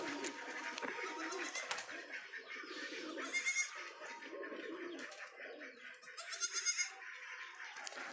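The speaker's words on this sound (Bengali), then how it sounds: "দেখুন আমাদের এখানে একটা ছাগলের বাচ্চা হয়েছে" A newborn baby goat bleats in short, wavering cries amid a crowd of cooing pigeons, all fairly faint and a little distant in a yard where pigeons and ducks are kept.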